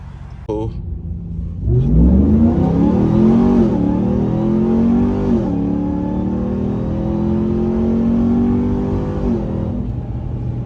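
A Ram TRX pickup truck's Hellcat engine starts up and revs hard, climbing in pitch, then holds a loud, steady rumbling drone with a couple more surges, close by.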